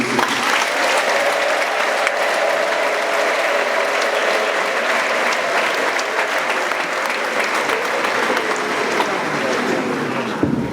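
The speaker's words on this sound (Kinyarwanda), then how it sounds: "nsabira amashyi n'impundu bikwiriye Pastor Theogene." Sustained applause from a large crowd fills the space, with a high wavering ululation rising over the clapping for much of the time.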